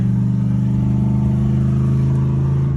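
Dodge Charger R/T with a Hotlicks flame kit, the exhaust holding a loud, steady droning rumble close by, no crackle or pops standing out, and no talk over it.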